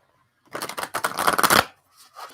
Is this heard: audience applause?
no